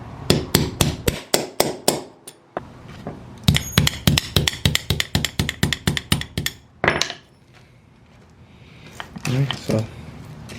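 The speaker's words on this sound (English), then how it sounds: "I'll hit it with a center punch like that, and hit it real hard" Go-kart chain link being knocked out with a center punch struck hard by a hammer, a rapid series of loud metallic blows in bursts with short pauses, followed by quieter handling clatter.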